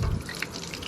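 Water draining out of an RV water heater during de-winterizing, a steady close splashing gush that pours continuously for the whole moment.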